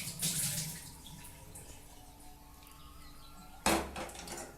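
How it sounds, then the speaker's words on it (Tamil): Tap water runs over a cooking pot being washed, with a loud splashing burst at the start, a softer steady trickle in between, then another sudden splash near the end. "வடிகட்டிட்டு இந்த பாத்திரத்தையும் கழுவிக்கிறோம்."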